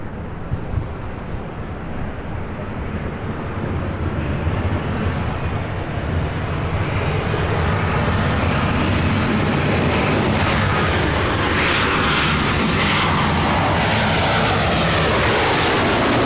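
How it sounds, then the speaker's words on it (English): A Boeing 737 airliner landing at LAX gives a loud, sustained jet roar that builds and holds, with a descending whine and wind buffeting across the microphone. "Boeing 737 touching down"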